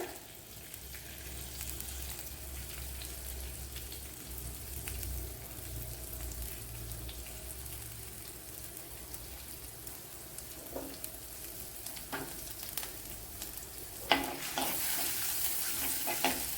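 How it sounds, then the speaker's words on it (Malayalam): Fenugreek, crushed ginger and garlic frying in hot oil for a dried fish curry, a steady close sizzle with occasional stirring clinks and scrapes, no talking. "ഇവിടെ ഓയിൽ ചൂടായിട്ടുണ്ട് ഇതിലേക്ക് ശകല ഉലുവ ഇട്ട് കൊടുക്കാം ഉലുവ ഒന്ന് ചൂടാകുമ്പോഴത്തേന് നമ്മൾ ചതച്ച് വെച്ച ഇഞ്ചി വെളുത്തുള്ളി ഇട്ട് കൊടുക്കാം"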